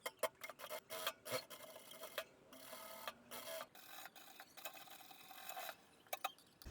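A sewing machine stitching a fabric pocket on a pair of ladies' trousers: quiet, mechanical bursts of rapid needle clatter in short runs broken by pauses, close and alone.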